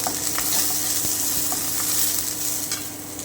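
Almonds, cashews and raisins lightly frying in a kadai, a bright continuous sizzle with brisk stirring clicks and scrapes throughout, close up and with no one speaking.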